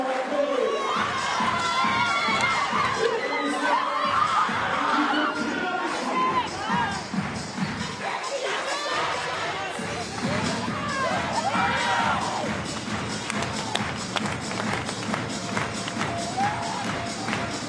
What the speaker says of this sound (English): applaudissements à Corée.